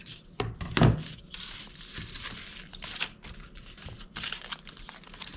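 Foil being trimmed where it folds over fish, giving crisp crinkling and crunching close by, with a sharp louder burst early on followed by lighter rustles and snips. No voices.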